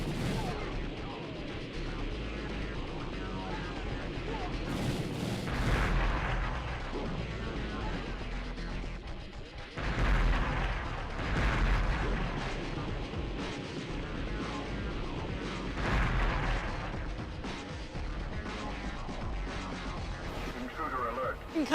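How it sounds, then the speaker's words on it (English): Concussion beam weapon firing in the ED-209 simulator video game, heavy booming blasts recurring about every five seconds over a dense, continuous battle roar with someone talking throughout. "Concussion beam's pretty good, though."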